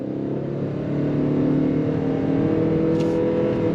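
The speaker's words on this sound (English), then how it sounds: "I'm gonna go ahead and put it into sport mode, and we are gonna go on throttle" A 2022 Ford Maverick Hybrid front-wheel-drive truck accelerates at full throttle in sport mode, its engine a steady, droning hum that swells slightly after the first second and holds loud and close for the rest.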